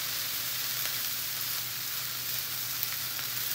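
Cauliflower fried rice sizzles steadily in a hot pan as it is stirred and mixed, a close, continuous hissing fry with no pauses.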